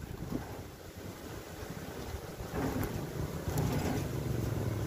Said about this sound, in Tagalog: So sobrang lakas ng hangin dito.